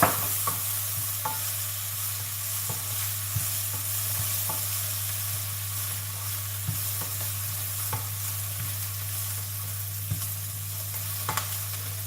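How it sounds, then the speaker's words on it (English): Garlic and dried shrimps sizzle steadily in a hot pan, with a constant frying hiss and occasional soft clinks of stirring over a low background hum. "I'm going to put these dried shrimps."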